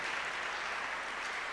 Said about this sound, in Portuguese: me aplaude, aplaude ao Senhor aí que mais gente aplaude